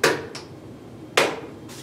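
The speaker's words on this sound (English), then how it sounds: "you take a mallet and just give it a couple nice whacks" A mallet knocks a part back into the tailstock of a toolroom lathe: two loud, close, sharp whacks about a second apart, each with a fainter rebound tap, in a small shop.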